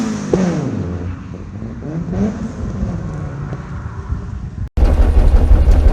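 An Opel Kadett GSi with a C20XE engine and a big cam idles close by in a steady, lumpy rumble, then the sound cuts briefly and returns louder and deeper.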